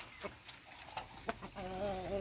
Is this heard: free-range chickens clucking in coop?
yes